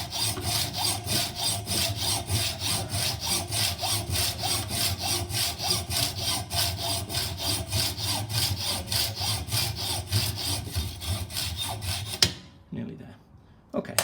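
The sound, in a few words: hacksaw cutting stainless steel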